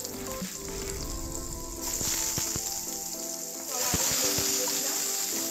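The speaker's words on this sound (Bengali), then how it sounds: "এবার আমি ফুলকপিতে দেওয়ার জন্য আলুগুলোকে ভেজে নেব" Potatoes frying in oil in a wok (kadai) for a cauliflower curry give a steady, close sizzle that swells louder partway through, with a few light clinks of a spatula, and no talking.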